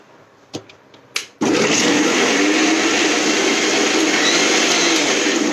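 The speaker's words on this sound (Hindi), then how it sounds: "ये गया मिक्सी में ग्राइंड होने।" A mixer grinder whirs loudly and steadily as it grinds popcorn with cream and chaat masala, starting abruptly after a few soft clicks and knocks and running nonstop to the end.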